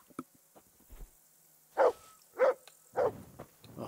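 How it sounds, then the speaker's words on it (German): A dog in the video game Kingdom Come: Deliverance barks at a horse, giving three loud, evenly spaced barks after a few quieter sounds, with no talk over them. "Ach, bellt er wieder das Pferd an."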